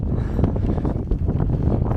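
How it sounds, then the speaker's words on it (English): Strong wind blasts across an exposed moorland ridge in the Peak District, roaring and buffeting close against the microphone in a steady, gusty rush with no voices. "Insanely windy across here."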